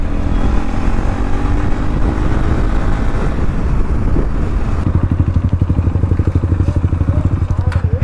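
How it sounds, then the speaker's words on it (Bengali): Loud motorcycle exhaust roars up close as KTM Duke 390 bikes race, fitted with an Akrapovic exhaust; a rising engine growl gives way to a fast, rhythmic pulsing burble with crackles. "ভাই টানছে দেখো ওরা রেস লাগাচ্ছে ভিতরি ভার্সেস ডিউক 390।"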